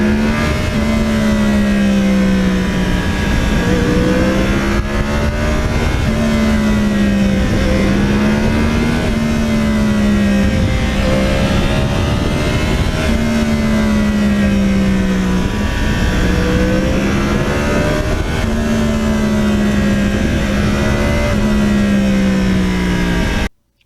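A 2009 Yamaha R1 crossplane motorcycle engine drones loudly and steadily throughout, its pitch rising and falling in smooth waves as the rider rolls on and backs off the throttle, with no talking.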